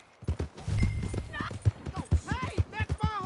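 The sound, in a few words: horse hooves clip-clopping as horse is taken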